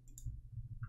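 A computer mouse clicks a few times while Half-Life 2 mods are being set up: several faint, sharp clicks spaced irregularly within a second against a quiet background.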